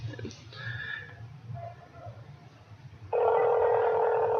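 A telephone call to a trading card game store starts with a few faint dialing beeps and soft handling sounds, then a loud, steady tone holds until the end.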